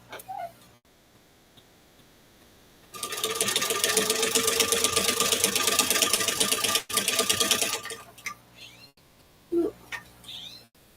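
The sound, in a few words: sewing machine with zigzag attachment stitching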